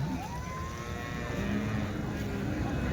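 Several cows moo in long, drawn-out calls over a constant background hum of a busy outdoor cattle market in Chintamani, Karnataka.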